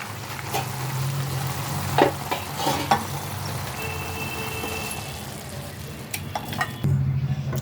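Fried lentil dumplings stirred into fenugreek greens in a pan, giving a steady close sizzle with intermittent scraping knocks of the spoon against the pan and no voices.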